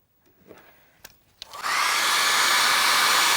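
A hair dryer dries a watercolour painting of a Scottish scene. A few small knocks come first, then the dryer switches on and blows in a loud, close, steady roar.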